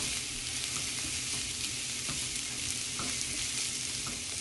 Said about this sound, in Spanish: Aquí lo vamos a sofreír unos 3-4 minutitos hasta que esté un poquito suavecito